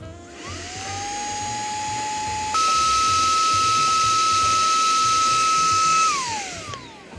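A cordless air gun, used for camping cleanup, blows air against a tent mat: its motor whines at a steady pitch, jumps to a higher, louder speed midway, holds, then winds down.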